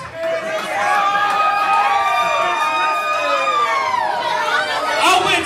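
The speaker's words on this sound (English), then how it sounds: "Why would you guys cheer violence?" Wrestling event crowd roaring and cheering loudly, with whistles, high whoops and shouting voices swelling together in a sustained, lively din.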